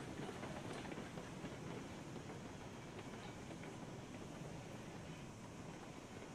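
Coal train rolling along the track in the Railroads Online video game, a steady dense rumble with faint rhythmic clatter that holds constant throughout and eases only slightly toward the end.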